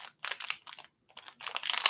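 Crisp crinkling of a plastic trading card pack wrapper being pulled open, in several close rustling bursts separated by brief pauses.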